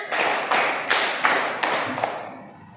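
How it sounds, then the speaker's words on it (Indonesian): Five or six counted hand claps during a classroom lesson, spaced about half a second apart and fading slightly toward the end. "tepuk 1, tepuk 2, tepuk 3, tepuk 4, tepuk 5"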